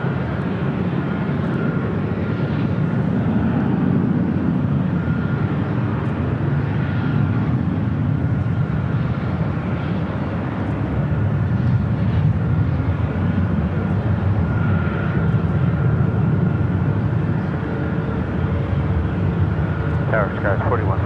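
A British Airways Airbus A380 takes off at LAX, a loud, steady broadband jet roar that holds for the whole stretch with a deep low-end rumble, and a faint radio-style voice sits under it.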